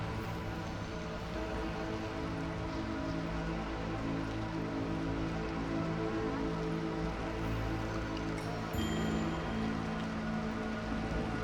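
Rain falls steadily across a stormy settlement in the video game Against the Storm, a constant dense patter layered over droning tonal game music, with a brief swell near the end and no voices.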